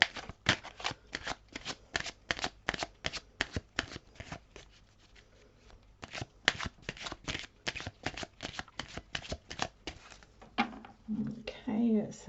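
Tarot cards being shuffled by hand in rapid riffling strokes, a steady close patter of card edges that pauses midway, resumes, then gives way to faint movement at the end.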